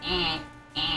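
A house fire alarm buzzes in two harsh, steady electronic bursts separated by a short gap, fairly loud and close.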